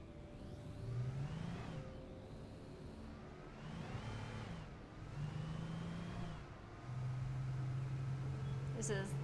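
An old truck with a rough, faulty engine in the video game Alan Wake revs and labours in repeated surging swells, its pitch climbing and falling before settling into a steady drone, with someone talking over it.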